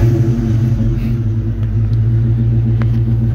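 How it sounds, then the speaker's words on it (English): A car engine idles loudly and steadily after its ignition interlock has been bypassed with touched-together wires, giving a close, even, low rumble with no revving. "Car's running."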